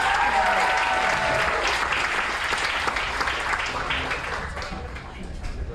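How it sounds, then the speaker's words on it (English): Sustained crowd applause at a live percussion show, dense clapping from a large audience that stays loud and steady before gradually thinning toward the end. "Give Brooklyn a big round of applause."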